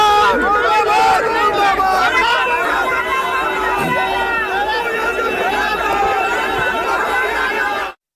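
A large crowd of Pappu Yadav supporters protesting his arrest outside his house, loud dense shouting and overlapping voices at close range with no breaks until an abrupt cut at the end.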